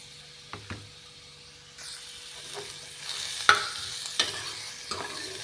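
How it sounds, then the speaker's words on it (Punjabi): Garlic and onion dropped together into a little hot oil for a ram tori sabzi, a soft sizzle building up with a few knocks and scrapes of a spoon against the pan, close and fairly quiet, no talking. "ਆਪਾਂ ਜੀ ਤੇਲ ਆਪਣਾ ਹੋ ਗਿਆ ਗਰਮ ਆਪਾਂ ਲਸਣ ਪਿਆਜ਼ ਇਕੱਠਾ ਹੀ ਪਾ ਦਾਂਗੇ"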